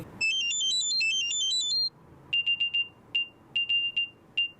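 Samsung Galaxy Buds 3 Pro earbuds sounding their lost-mode alert: a rapid warbling electronic chirp melody, then a series of short, sharp high beeps in irregular groups, clear and close with no talking.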